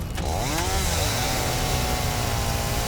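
A chainsaw cuts down a tree in the video game Satisfactory. It gives a continuous, loud, buzzing whine with a brief rising pitch sweep early on, and there is no talk.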